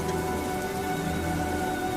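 Rain falls steadily in an even, dense hiss with faint pattering, constant and unbroken throughout.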